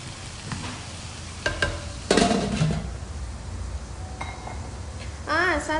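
Chicken gizzards sizzle and fry in a pan while a utensil stirs and clinks against metal and glass, with faint background noise and no speech.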